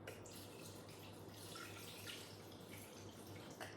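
Water poured into a Thermomix bowl while preparing cucumber pickle brine, a soft continuous splashing trickle heard close but quiet over a low steady hum, with no talking.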